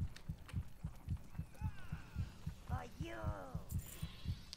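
Steady, regular heartbeat thumps from the game Overlord pulse evenly throughout, low and insistent, while game creatures or voices chatter and warble over the top partway through.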